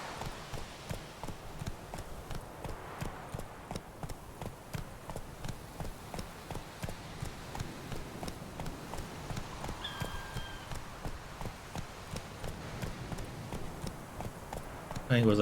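Roach, a horse in The Witcher 3, gallops with a steady rhythmic clip-clop of hooves running throughout, close and fairly loud, with someone talking over it.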